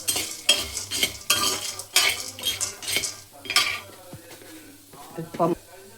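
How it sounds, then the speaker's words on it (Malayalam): Busy scraping and clattering of a spoon mixing fried poha (flattened rice) snack mixture in a metal pan, with a light sizzle underneath, close and lively. "അതിട്ടൊന്ന് മിക്സ് ചെയ്യുന്നു രണ്ടും കൂടെ."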